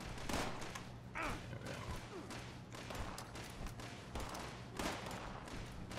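Grenade blasts and gunfire in Fallout 76 during a workshop PvP defense, with a dense, continuous spread of thumps and rapid shots plus a couple of louder bursts, all loud and close throughout.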